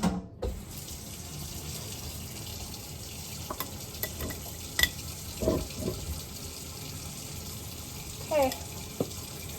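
Kitchen tap running into a sink to soak dirty dishes, a steady close hiss of flowing water with occasional splashes and clinks, with a brief spoken word near the start.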